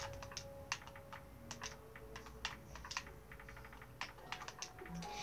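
Quiet keyboard typing, with irregular clusters of soft clicks over a faint steady hum, as a name is entered on a computer.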